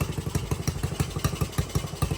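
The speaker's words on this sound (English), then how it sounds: "I think I'm okay with her idling like that because it sounds kind of good." A Honda CT70 dirt bike with a slightly oversized carburetor idles close by, its small engine putting out a quick, even, lumpy putter with a steady rhythmic beat and no voices.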